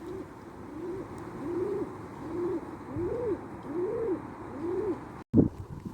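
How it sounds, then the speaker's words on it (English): A pigeon resting beside the River Clyde in Glasgow coos in a steady series of about six soft, rolling calls, fairly close, over faint outdoor background noise, ending with a brief bump. "This little pigeon is having a sit down."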